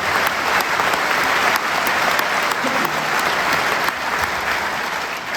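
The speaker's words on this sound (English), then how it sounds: "So give them a big round of applause." Concert audience at Symphony Hall applauding a comic, a steady dense wash of clapping that holds loud and even throughout with no talk over it.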